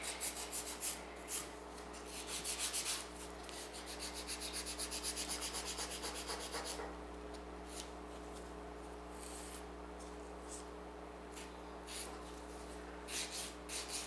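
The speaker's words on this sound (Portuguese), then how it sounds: "E agora nós vamos lixar assim por cima, ó." Polygel stiletto nail being filed, a dry rasping scrape in short repeated strokes, close and fairly quiet over a constant low electrical hum.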